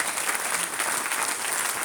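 Steady applause from a live seminar audience, broadband clapping that stays loud and even for the whole two seconds with no voices over it.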